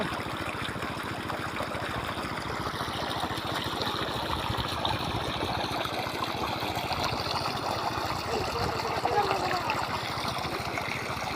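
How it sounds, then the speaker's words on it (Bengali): A shallow tube-well pump machine keeps water flowing in a continuous, even rush with a steady mechanical pulse underneath, close and unbroken throughout. "এখান থেকে পানি হচ্ছে মেশিন থেকে।"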